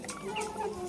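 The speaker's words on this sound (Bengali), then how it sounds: "তারপরে মোরগগুলোকে ছেড়ে দিলাম।" A rooster clucks in a short, quiet burst, its low throaty calls brief and somewhat distant against faint background noise.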